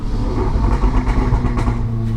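A turbocharged car's engine with a dump valve rumbles deep and loud close by, with short faint hissing puffs over the throbbing low drone.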